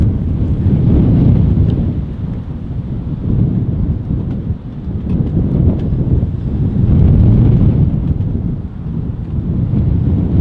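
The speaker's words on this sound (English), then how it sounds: "It is very windy today, guys." Strong wind buffets the microphone at Manchester Airport, a loud continuous roar with gusts that swell and ease throughout, no voices heard.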